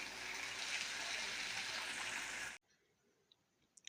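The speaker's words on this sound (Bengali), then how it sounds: "এই যে ভালো করে কষে জলটা দিয়ে দিলাম" Water is poured into small fish frying in spiced masala for a sour fish curry, a loud gushing splash for about two and a half seconds that cuts off abruptly, leaving a faint quiet background.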